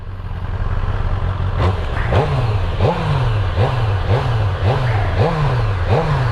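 A BMW S1000RR sport motorcycle engine blips repeatedly at close range, each rev rising sharply and falling back in a regular rhythm of about six or seven pulses over a loud idle.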